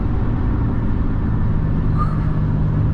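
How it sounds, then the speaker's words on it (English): A 2024 Ram 3500 Longhorn pickup truck with its full exhaust brake engaged gives a steady, deep, loud rumbling drone that holds evenly for the whole stretch, with no talking over it. "when you throw it into full exhaust brake"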